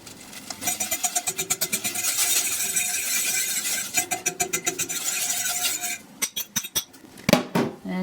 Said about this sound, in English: I think first I will whisk the egg in here.